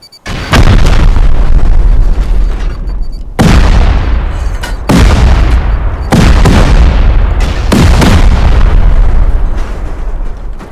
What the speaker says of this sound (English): 6 C4 and 4 rockets, okay.